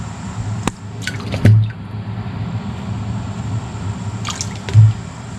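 Blanched corn cobs lowered into an ice water bath, giving soft splashes and drips, with two louder plunging sloshes over a low background hum and no talking.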